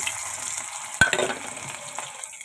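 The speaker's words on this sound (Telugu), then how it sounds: "ఆయిల్ హీట్ ఎక్కిన తర్వాత తాలింపు గింజలు వేసుకున్నాను అవి ఆడుతుండగా ఆనియన్స్ వేసుకున్నాను" Onions and tempering seeds fry in hot oil with a continuous crackling sizzle, broken by a sharp clack of a utensil and a brief burst of stirring near the start.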